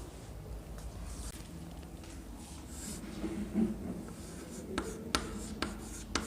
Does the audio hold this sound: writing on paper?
yes